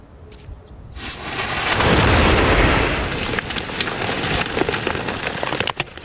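A World War II German tank cannon fires, a big boom that swells into a long rolling roar and then breaks into scattered crackles and sharp pops, loud and close with no speech over it.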